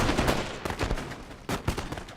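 Musket volleys in a Napoleon: Total War recreation of the Battle of Waterloo, with ragged, overlapping crackles of many muskets firing in uneven bursts, dense and fairly loud at mid-distance, and no talk.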